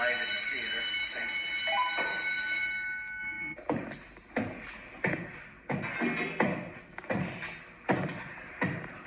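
A fire alarm system in a large 1970s middle school is tested. A continuous electronic tone sounds at first, then gives way to a loud, evenly spaced series of pulsing horn blasts echoing through the building.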